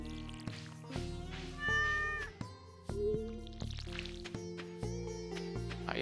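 Cartoonish meows from a cat in the farming video game Stardew Valley, several short pitched calls over bright game music with plucked, dripping tones, no voices.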